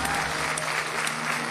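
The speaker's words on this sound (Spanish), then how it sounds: "¡Fuerte el aplauso para Facundo!" A studio audience on a quiz show breaks into dense, loud applause, sustained clapping from many hands filling the whole brief moment.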